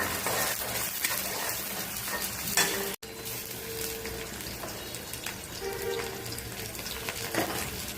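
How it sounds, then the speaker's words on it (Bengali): Spices spit and crackle in hot oil in a pan while being stirred for a dried fish curry. The sizzle is dense and close, with a brief gap near the middle, and no speech. "এবার গরম তেলে দিচ্ছি পরিমাণ মতো সব"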